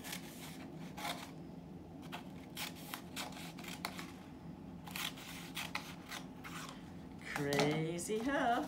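Repeated crisp snipping of scissors cutting paper, close up and fairly quiet, several quick cuts spread through, with a brief crinkly rustle near the end.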